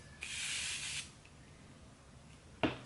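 Two short sprays of makeup setting spray: a hissy burst lasting under a second, then quiet, then a brief second puff near the end.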